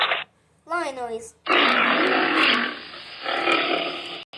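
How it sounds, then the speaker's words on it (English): A lion roar played from an animal sounds app comes as loud, rough growling bursts, a long roar and then a second one, with a brief tonal call before them. "Lion noise."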